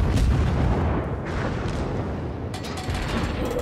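Naval guns boom continuously from a warship in a naval battle video game, dense rumbling gunfire with a few sharper bursts, loud and close throughout with no talk.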